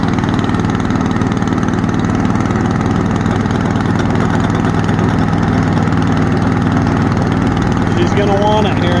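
The pony motor of a 1954 Caterpillar D9G crawler runs loud and steady after the fuel system was opened, a constant chugging engine drone close by for the whole stretch.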